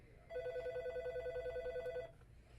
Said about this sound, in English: I really hope someone gets that phone